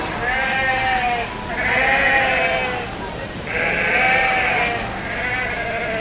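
Yearling ewes under two years old bleat repeatedly at an open sheep show, overlapping calls rising and falling in long swells close to the listener, with a voice talking over them.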